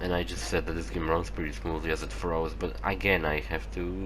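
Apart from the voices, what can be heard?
No everyday noise stands out behind the speech.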